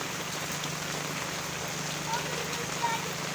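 Steady, soft hiss of rain falling outdoors around a house, a constant distant wash with faint patter and no clear talk.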